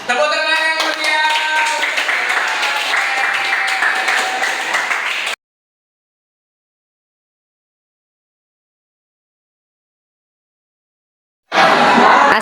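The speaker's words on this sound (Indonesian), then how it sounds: "Tepuk tangan yang meriah" An audience claps for about five seconds, a dense burst of applause layered with some tonal sound, then cuts to complete silence before another loud burst starts abruptly at the very end.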